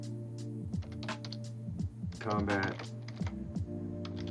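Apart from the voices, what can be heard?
typing on computer keyboard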